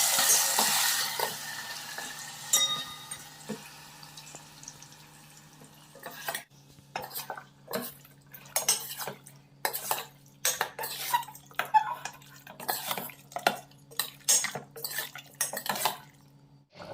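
Mutton dropped into hot oil with whole spices, starting with a loud hissing sizzle, then a long run of clattering spatula scrapes and knocks against the pot.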